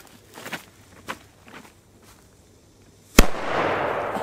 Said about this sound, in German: Eine schöne, teure Fontäne,